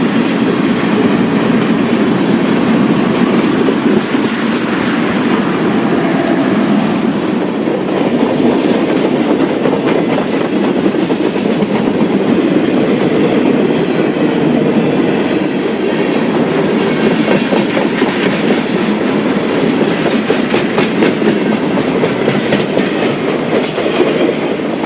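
CSX freight train rolling past at a busy rail junction, loud and close, with continuous rumble and rhythmic clickety-clack of wheels over rail joints and a brief squeal near the end.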